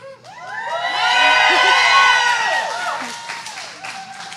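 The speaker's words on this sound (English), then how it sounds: "please cheer" An audience at an open stage poetry event cheers, a swell of shouts, whoops and some clapping that builds loudly, peaks and then trails off.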